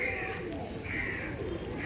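Soft, low coos of old Giribaz pigeons repeat in a steady rhythm over a busy background murmur, fairly close and moderately loud.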